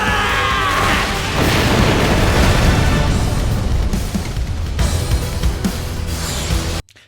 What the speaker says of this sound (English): Pretty good, pretty powerful explosion.